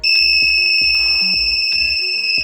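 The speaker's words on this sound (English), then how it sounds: "Oh my god, as if one buzzer wasn't already loud enough." Several small electronic buzzers wired together on a homemade room security device blare a piercing, steady high-pitched tone, loud and close, over a faint pulsing background rhythm.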